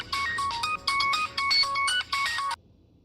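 An electronic telephone ringtone chirps in four or five rapid, loud bursts of a repeating melodic pattern, then cuts off into near silence.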